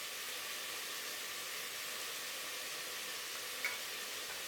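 Collard greens with chili flakes sizzle steadily in a hot pan as they are stirred, a constant hissing fry with one faint tap near the end.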